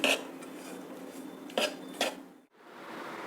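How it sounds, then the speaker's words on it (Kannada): A utensil stirs a dessert mixture of roasted nuts in a pan, with a few sharp metallic scrapes and clinks against the pan over quiet background noise. "ಈಗ ಚೆನ್ನಾಗಿ ಮಿಕ್ಸ್ ಮಾಡ್ಕೊಳ್ತಾ ಇದ್ದೀನಿ"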